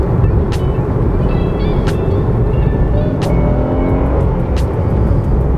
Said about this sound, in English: Let's go ahead and give it a little more gas one more time here